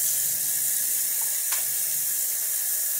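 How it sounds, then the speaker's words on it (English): A tap runs hot water into a container, a steady loud hissing rush with a faint click near the middle. "we're gonna fill this up with water."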